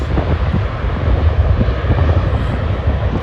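A large fixed-wing airliner roars steadily at Schiphol airport, its loud, broad engine rumble continuous and close, with no talking over it.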